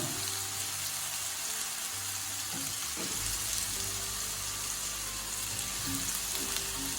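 Soya chunks hit hot oil in a non-stick pan and fry with a dense, steady sizzle and crackle that holds throughout, with a brief bump and a few clinks near the middle and no speech.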